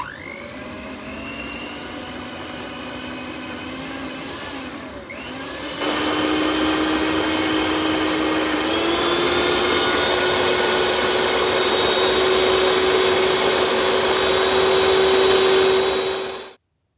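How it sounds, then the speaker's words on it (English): An electric mixer whirs at high speed beating butter cake batter, a continuous motor whine that stutters briefly then steps up to a higher, louder pitch and runs on before cutting off, with no voices. "Beat or use mixer at high speed until smooth and fluffy."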